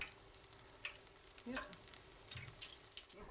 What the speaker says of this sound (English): Now we test the oil to make sure it's hot enough by dropping in a bit of the batter to make a hush puppy.